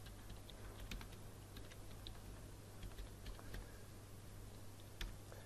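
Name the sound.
typing a table name on a computer keyboard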